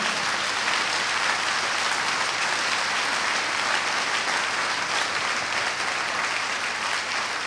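Congregation clapping and cheering during a church sermon service in Tsévié, Togo: dense, sustained applause that stays steady and fairly loud throughout, with no talk over it.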